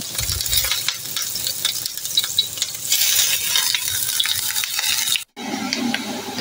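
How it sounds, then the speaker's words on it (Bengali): Chopped onions fry in oil in a pan with a steady close sizzle while a utensil scrapes and stirs; the sound cuts out briefly, then the frying resumes. "পেঁয়াজগুলো আমি ভেজে নিব ভালো করে"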